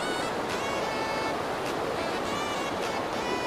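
Fast, rain-swollen water rushes through Panchghagh Falls in Khunti during the rainy season. It makes a loud, unbroken broadband roar close to the microphone, with no talk.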